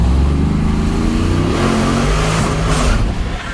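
A supercharged sleeper work van accelerates hard at full throttle, its engine roaring loud and close with a rising, strained pitch and rough low rumble that eases slightly near the end.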